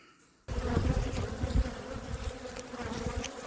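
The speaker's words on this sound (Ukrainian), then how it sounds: "дуже злі бджоли дають причухани доброї" Angry honey bees swarm around a beehive of a troubled colony, their dense, loud buzzing surging in abruptly after a short quiet moment and droning on steadily and close by.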